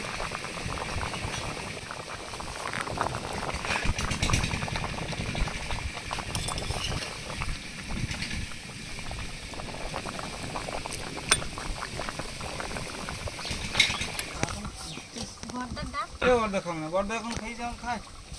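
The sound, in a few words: fish curry with taro boiling in a pot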